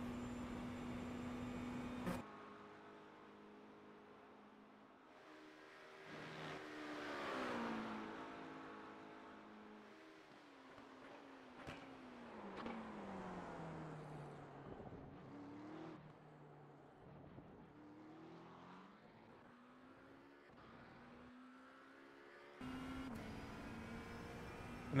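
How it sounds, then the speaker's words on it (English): A McLaren 720S EVO GT3 race car laps Spa in iRacing, its engine climbing and falling through the revs with repeated gear changes, braking and acceleration, fairly quiet and steady throughout, with no talking. "A full lap of Spa in the McLaren, and it is a lovely beast"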